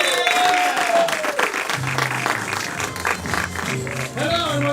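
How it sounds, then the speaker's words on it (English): Audience applause at a live event, a steady wash of clapping that fills the room, loud and close, with scattered cheers and voices rising over it toward the end. "come on up, clap for them, everyone."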